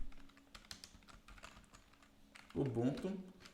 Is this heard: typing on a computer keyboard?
yes